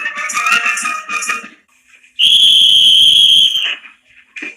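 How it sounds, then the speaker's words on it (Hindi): A sustained shrill whistle blast in an Indian Army camp at 10 pm signalling bedtime, loud and steady for about a second and a half, preceded by a shorter warbling whistle and followed by a brief final chirp. "ठीक 10 बजे की सीटी ऐलान करती है सोने के वक्त का।"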